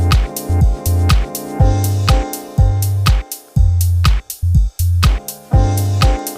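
A sample from a 1960s Dutch-Swedish singer/songwriter record with delay switched on, producing chopped, repeating musical phrases with echo tails and gaps between them, loud and with no talking.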